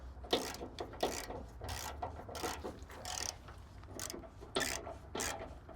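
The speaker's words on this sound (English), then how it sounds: "I might be able to take this out with the old socket, the 3/8 ratchet" A 3/8 socket ratchet cracking loose bolts on a rusty work truck: dense, close clicking and grinding bursts that repeat in an uneven rhythm, with no speech.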